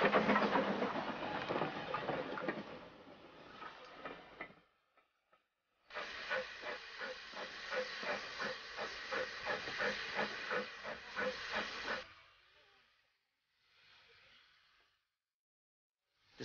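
Loud bursts of hissing steam from a preserved steam locomotive, one long blast, a pause, then another sustained hiss, followed by softer, fainter puffs.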